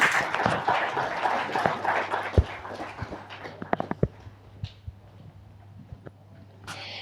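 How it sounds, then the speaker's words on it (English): An audience at a triathlon launch event claps for a sponsor, a short burst of applause that thins out within a few seconds into scattered individual claps and faint room noise. "once again a round of applause to our workspace partner"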